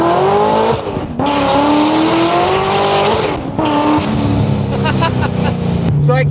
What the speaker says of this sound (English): It's gonna provide an ignition cut so you can keep your foot flat to the floor and hit that next shift.